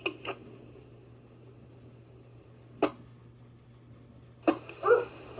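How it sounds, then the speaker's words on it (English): A dog barks a few short, scattered times in the background, faint against a steady low hum, during an amateur radio net. "Sorry, my dog is barking."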